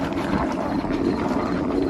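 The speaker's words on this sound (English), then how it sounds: "Matthias spinning salad." A salad spinner whirls washed salad greens during farmers' market prep, giving a steady, dense rushing whir that holds evenly throughout at close range with no speech.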